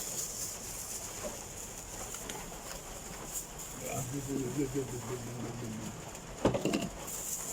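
Pigeons coo in soft, repeated low calls partway through, over a steady background hum with a brief knock near the end.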